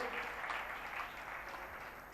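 An audience at a religious gathering claps to welcome two saints, a dense, even wash of applause at moderate distance that holds steady for a couple of seconds.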